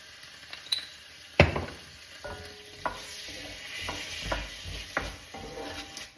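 Mince fries in a pan after Worcestershire sauce is added: a steady sizzle under repeated scraping and stirring clatter from a utensil against the pan, with one sharp knock early on.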